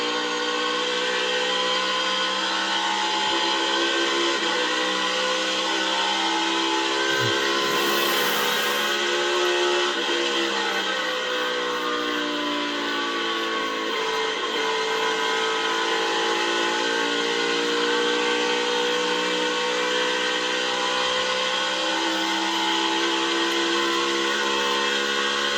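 Onboard engine of Chase Elliott's Napa Chevrolet NASCAR Cup Series car racing at Miami, a loud sustained high-revving whine with shifting pitch that rises and falls over about twenty-five seconds.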